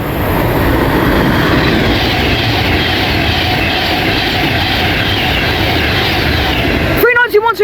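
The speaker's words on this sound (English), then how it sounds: "As now we have a Pendolino passing through" A Pendolino express train runs through Milton Keynes Central station on the West Coast Main Line, a loud, steady broadband roar with rolling wheel noise that holds for about seven seconds before cutting off abruptly.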